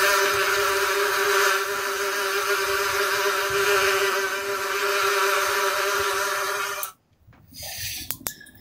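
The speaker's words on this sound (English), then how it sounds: "Why do we have to release the bees every time we do that one?" A steady, loud buzzing bee-swarm sound effect played at an indoor lacrosse game fills most of the clip, then cuts off abruptly, leaving a few faint sounds.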